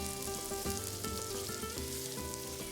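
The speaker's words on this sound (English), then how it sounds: "I like to use fresh rendered pork lard to brown the onions and garlic" Onions and garlic browning in fresh rendered pork lard over medium heat give a steady, close, soft crackling sizzle, heard alone under faint background music.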